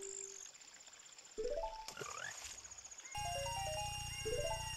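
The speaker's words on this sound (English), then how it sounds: "Big frog." A big frog croaks in the video game Ocarina of Time 3D, with short rising tones and chirpy game notes over a low steady background, quiet overall.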